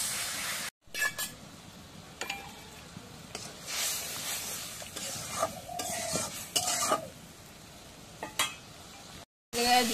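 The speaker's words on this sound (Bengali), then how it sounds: "এখন জিরা বাটা, রসুন বাটা, পেঁয়াজ বাটা একসাথে বাটছি, সব এখন দিয়ে দিই।" Cumin, garlic and onion pastes sizzle in a hot pan while being stirred, with repeated scraping strokes and occasional clinks of the utensil against the pan, close and fairly quiet, broken by two brief silences.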